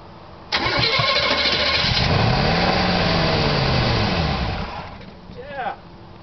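An engine that had sat unused for seven years cranks and catches, then runs loudly and roughly with a wavering idle for several seconds before dropping off. Voices are audible around it.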